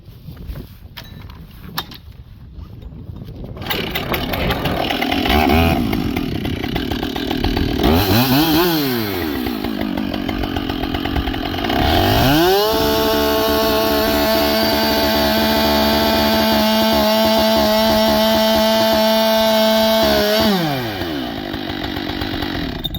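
A chainsaw bore-cuts through a small-diameter yard tree, its engine revving up and down in sweeping pitch bends before settling into a steady, loud high-revving whine as the bar plunges through the trunk, then dropping off near the end.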